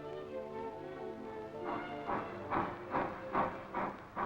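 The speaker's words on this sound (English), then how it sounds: "Here's a freight train pulling out." A freight train begins to move, its chuffing bursts of hiss starting slow and settling into a regular rhythm over a low mechanical rumble.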